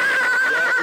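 A horse on a mountain trail gives a loud, close, sustained high neigh that wavers slightly, under a second long.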